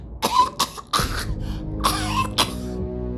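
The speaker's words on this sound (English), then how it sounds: "A fit of coughing takes her" A woman in the video game Wasteland 3 coughs repeatedly in a fit, several harsh bursts in quick succession with throat-clearing, close and loud.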